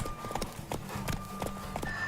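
Horse hooves in The Witcher 3, a rapid run of clip-clop strikes with a steady galloping rhythm, close and fairly loud over faint game ambience.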